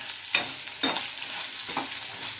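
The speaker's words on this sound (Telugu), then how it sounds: "ఉల్లిపాయ ముక్కలు తరిగినవి వేసుకోవాలి ఇవి బాగా వేగాలి" Chopped onions fry in a pan for Andhra-style egg curry, producing a continuous, fairly loud sizzle punctuated by three short scraping stirs of a spoon.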